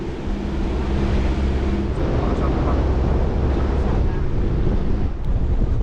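Steady, heavy wind buffeting the microphone with a constant low roar in mountainous Yunnan, China, continuous and loud throughout.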